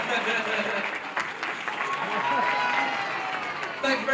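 Continuous crowd clapping rings out at an outdoor zoo seal training show, a broad even wash of applause that holds its level throughout, with faint voices mixed in underneath.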